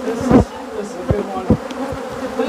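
Honey bees buzzing around an open hive, a close, loud drone with individual bees swelling past in short bursts.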